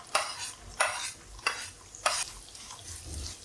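Curry leaves, carrot and beans sautéed in a pan, four evenly spaced scraping stirs over a low sizzle, close and moderately loud.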